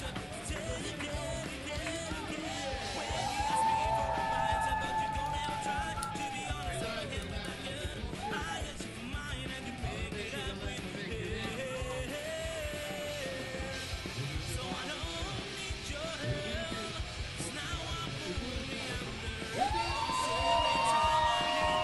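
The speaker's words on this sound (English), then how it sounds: "And a big round of applause for the local boys." Spectators at a 2019 IMCF fighting championship cheer and shout for the local fighters after their win, a steady roar of crowd noise with yells and whoops while an announcer talks over it.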